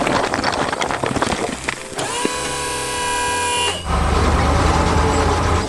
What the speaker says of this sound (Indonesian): Truk biru melaju kencang membawa beban berat.